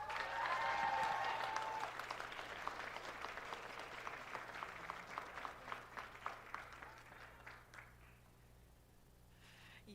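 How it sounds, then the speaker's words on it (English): A crowd applauds to welcome a speaker onstage at a SPEAK UP event, a full burst of clapping that starts strong and gradually thins into scattered claps before dying away. "Let's welcome Drew to the stage with a round of applause"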